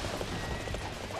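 Horses galloping in Dynasty Warriors 8 Xtreme Legends, a steady dense drumming of hooves amid loud battle noise with no distinct gaps.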